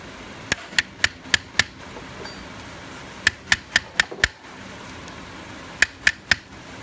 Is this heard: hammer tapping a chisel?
yes